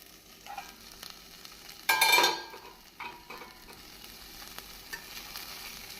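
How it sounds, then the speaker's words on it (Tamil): Ladies finger (okra) sautéing in a pan with a steady soft sizzle and the scrape of stirring, plus one louder burst of rattling as it is turned, close and unaccompanied by voices. "வெண்டைக்காய் நன்றாக வதங்கிவிட்டது."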